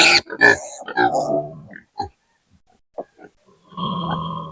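A piglet grunts during an iron injection at vaccination, short squeals and grunts coming in bursts, with a pause in the middle before a longer, sustained grunting squeal at the end.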